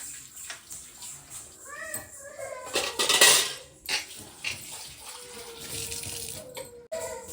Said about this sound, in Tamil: மட்டன் கழுவிக்கலாம்